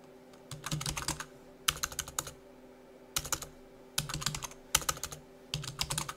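Bursts of clicky computer keyboard typing come in five separate runs separated by short pauses, close and clear, while a word is entered into a flowchart box in LibreOffice Draw.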